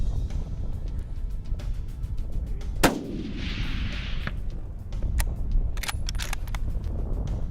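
A single loud, sharp rifle report during an antelope hunt in windy Montana country, followed by a fading echo, with wind buffeting and scattered clicks around it.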